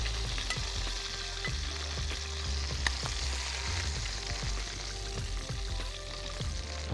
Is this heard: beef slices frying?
yes